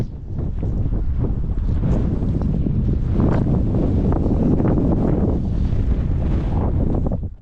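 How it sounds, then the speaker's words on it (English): Strong wind blasting into a GoPro microphone on a hilltop at Ditchling Beacon, a loud steady roaring buffet that lasts throughout with no pauses and no other sounds. "It's so bloody windy."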